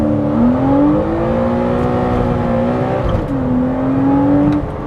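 Porsche Boxster 987 with PDK gearbox launching hard under launch control, a loud continuous engine roar climbing in pitch, a brief dip around a quick gearshift, then pulling strongly again.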